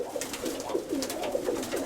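Pigeons at a Ukrainian pigeon loft, kept for chasing flights, coo repeatedly in soft rolling phrases close by, with a steady murmur of several birds and no talk.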